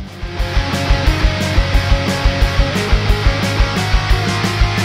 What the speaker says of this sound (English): And they get lost in the mix like this.